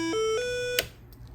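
An alarm buzzer on a compressor protection control box sounds a short electronic tone that steps up in pitch, holds briefly and then cuts off with a click, leaving faint background noise.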